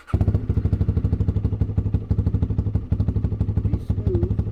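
A 2023 Honda Rebel 300 motorcycle engine idles and putters close by during clutch practice, a loud, steady rapid thumping pulse with slight rises in pace.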